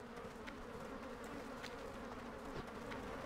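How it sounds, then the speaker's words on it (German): Mosquitoes swarm in the desert zone of Silithus in World of Warcraft, a faint, steady, high-pitched buzzing drone with no talk over it. "Das Summen von Mücken, das ist hier das Thema in Silithus."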